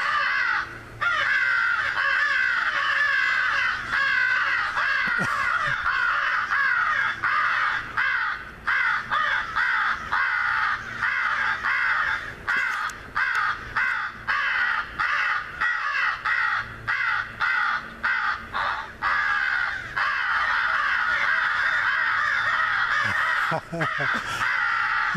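A large flock of crows caws continuously, harsh overlapping calls filling the air, with scattered clicks and occasional nearby movement sounds.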